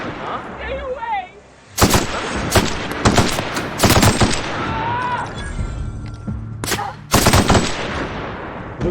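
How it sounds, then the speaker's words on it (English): Assault rifle fire in a video game crackles in repeated sharp bursts and single loud reports, spread through the scene, with someone talking between and over the shots. "This is an assault rifle that looks like a shotgun."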